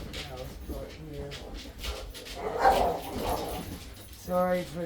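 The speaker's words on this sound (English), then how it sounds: "Sorry for the dogs in the background." Dogs play and bark in the background indoors, with mid-distance barks, yips and growly vocal bursts that come in rapid clusters, then a louder bark near the end.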